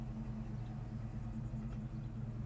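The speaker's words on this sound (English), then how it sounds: "the car idles so nicely" A 1972 Chevrolet Chevelle engine idling steadily with a low, smooth rumble, fairly quiet and constant with no other sounds.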